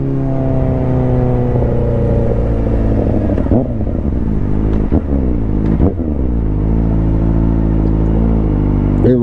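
A motorcycle engine idles loudly and close by, with several quick throttle blips revving up and dropping back to a steady drone.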